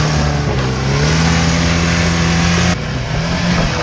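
A Moskvich car revs hard at an off-road competition while its tires spin and smoke, a loud, sustained engine drone that holds steady and drops slightly near the end.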